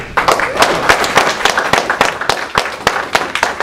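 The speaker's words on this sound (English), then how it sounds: "let's give him a round of applause for Bobby Henry" An audience applauds Bobby Henry, a dense burst of clapping with sharp, closely spaced hits that carries loudly throughout the short stretch.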